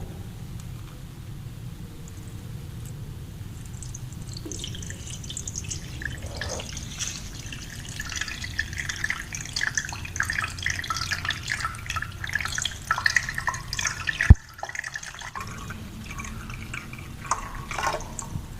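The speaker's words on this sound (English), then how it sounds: "Slowly add the water." Water is poured slowly into a tank on a hydrostatic force test rig, a quiet trickle with scattered drips and splashes over a low background hum, with a brief sharp knock near the end.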